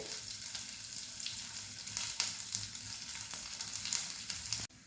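Garlic cloves fry with cumin seeds in hot oil, a steady close sizzle with scattered crackles and pops, ending abruptly, no speech.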